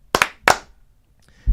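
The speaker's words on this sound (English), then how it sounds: "they all deserve 2 claps" Three sharp hand claps in quick succession, close and dry, with a low thud at the end and no talking.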